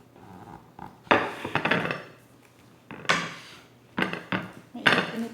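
Freshly baked homemade brownies are lifted out of the pan into a container, with several separate clinks and scrapes of a utensil against metal and a dish, coming in bursts with quiet gaps between.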